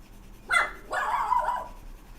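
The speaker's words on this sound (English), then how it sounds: "I wonder if you can hear the dogs in the background." A couple of dog barks and yips sounding from a distance, a short one followed by a longer drawn-out bark, over quiet background.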